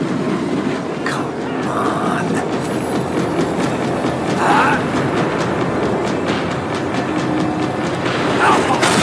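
A tram in Max Payne 3 rumbles along its rails while slowing, a steady loud clatter of wheels with faint squeals and scattered clanks, some speech mixed in beneath it.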